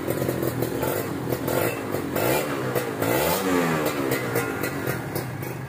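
A 2014 Kawasaki Ninja RR motorcycle, freshly fitted with a new throttle, revs repeatedly at full throttle close by, its two-stroke engine wailing up and down in pitch with a raspy, buzzing exhaust note.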